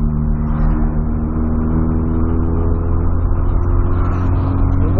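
A Volkswagen Golf engine runs loud and steady at moderately raised revs, held with a constant low droning hum and no sharp climbs, with no voices.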